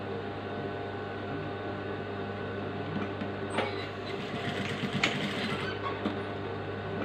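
A sewing machine hums steadily while stitching piping onto a frock, a low continuous motor drone with faint mechanical clatter, close and fairly quiet, no voices.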